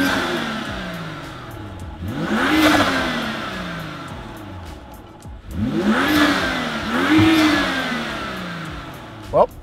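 A BMW N55 engine fitted with a Turner intake revving in two separate bursts, each rising sharply in pitch and falling back to idle, heard close and loud with a steady idle between.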